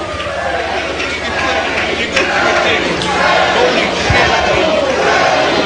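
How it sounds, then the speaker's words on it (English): A loud wrestling crowd chants for Teddy Hart during a hardcore match against Sabu at Stampede Wrestling, a dense roaring mass of voices that swells steadily throughout. "The crowd chanting for Teddy."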